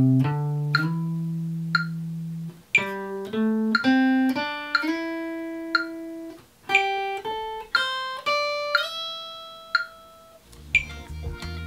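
Clean guitar notes picked one at a time in a slow melodic line, each clear pluck ringing briefly, with faint metronome ticks marking the beat and no talk.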